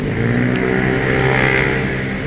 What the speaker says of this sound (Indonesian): Nah, ini ada bus ALS dengan full paketnya ini, Mas.